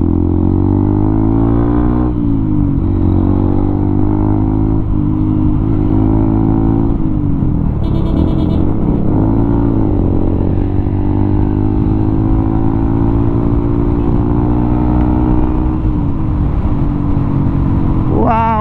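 A motorcycle cruises steadily along a road in Cebu, its engine droning loud and close throughout with gentle rises and falls in pitch as it shifts and accelerates.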